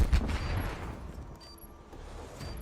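Gunfire in Call of Duty Black Ops Cold War during a tournament match, a loud burst at the start trailing into scattered, distant shots and reverberant rumble.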